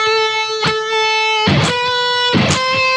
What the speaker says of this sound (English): So even when you try and bend a string